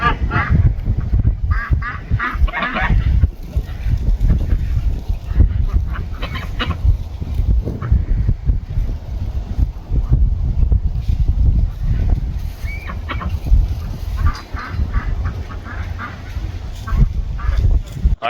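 Ducks honk repeatedly outside a barn on a cold evening near sunset, a busy, overlapping flock close by with calls continuing throughout.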